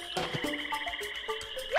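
A frog in Frog Fighters, a 2002 PlayStation Frogger-style game, croaks in a warbling, repeating call over steady game sound, lasting under two seconds with no talk.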